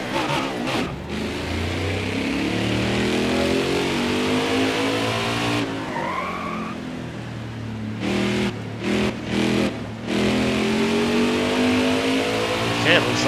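A NASCAR Heat 4 race car engine drones and revs continuously, swelling and dipping with gear changes and throttle, while someone talks over it.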